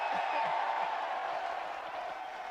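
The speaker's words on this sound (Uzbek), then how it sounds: "eng katta olqishlarni siz olyapsiz" Applause from an audience at a UFC press conference, a steady wash of clapping that gradually fades slightly, heard without talk over it.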